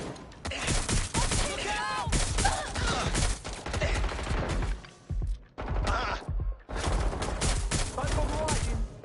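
Gunfire in Watch Dogs Legion: sustained, dense bursts of automatic shots with brief lulls between volleys, loud and close, with some voices under the shooting.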